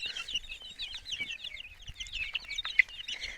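Bantam chicks chirp and cluck in quick, overlapping high-pitched calls, fairly quiet and nearby, with no talking.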